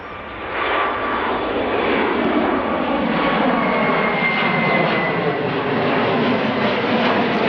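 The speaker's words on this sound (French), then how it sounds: "Et là même, des avions qui décollent." A steady, loud roar of jet engines from aircraft taking off, a broad rushing noise that holds constant throughout with no voices.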